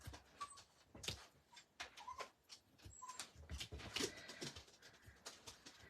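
A dog lying under a desk whimpers in faint, high, intermittent whines, mixed with light pattering and shuffling noises, close by in a quiet room with no speech.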